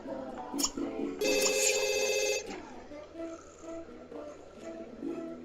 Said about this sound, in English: Didn't even answer the phone.